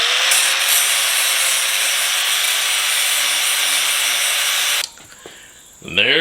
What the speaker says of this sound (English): Just going to hit these real quick with a flap disc.